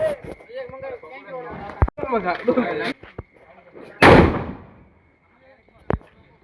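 People talk and shout while sharp Diwali firecracker bangs go off, one loud burst followed by scattered smaller cracks.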